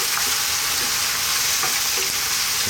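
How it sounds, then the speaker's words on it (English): Lamb curry with garlic ginger paste and whole fresh chili sizzling and frying in a pan while being stirred, a loud continuous crackle with occasional scraping from the spoon. "Just give us a little mix before the next step."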